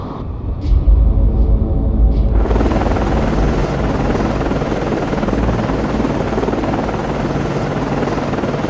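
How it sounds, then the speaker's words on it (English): A helicopter spools up on the deck of a Perry-class frigate, USS Nicholas, during an anti-submarine launch in the naval game Cold Waters. A low engine hum swells abruptly into a loud, steady rotor roar that stays close and unbroken. "Con, Flyco, launching aircraft."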